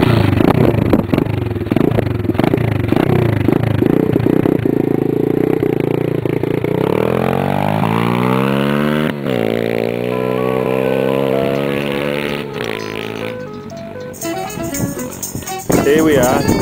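A pit bike with an anodised aluminium 125 engine runs close by, its note rising and holding in a steady drone before easing off, with clattering and mechanical rattles throughout.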